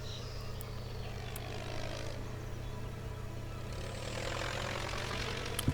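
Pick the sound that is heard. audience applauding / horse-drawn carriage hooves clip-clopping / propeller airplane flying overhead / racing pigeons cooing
propeller airplane flying overhead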